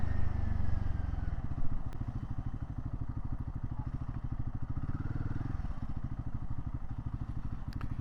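A Royal Enfield Guerrilla 450 motorcycle engine thrums steadily at close range as it rides through traffic, a continuous throbbing drone with faint road noise.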